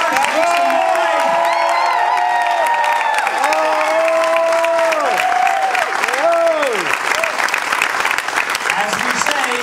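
Crowd at a boat club christening event applauding, cheering and whooping loudly and continuously, with shouted voices and a sustained wall of clapping throughout.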